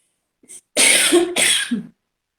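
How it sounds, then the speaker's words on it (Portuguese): A brief small sound, then two harsh, forceful coughs in quick succession, close and loud, followed by silence. "aí vem essa tosse"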